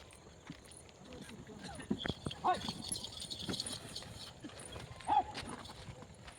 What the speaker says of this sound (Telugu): ఎద్దుల బండి మీద సాయంకాలం పూట అయితే మా ఇంటికి అయితే చేరుకున్నాము